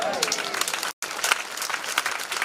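Audience applause at a family church conference, a steady wash of clapping that breaks off for a brief moment and then carries on at the same level, with voices faintly under it.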